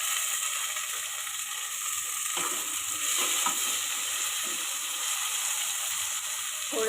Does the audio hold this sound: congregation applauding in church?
no